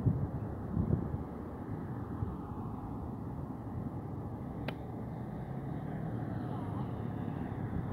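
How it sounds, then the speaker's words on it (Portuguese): Strong beach wind blows steadily during a Fimi X8 Mini drone flight by the sea in São José, a constant low rumble with a faint passing sound. "Tá ventando bastante, que tá bem difícil de fazer movimentos suaves aí com esse vento."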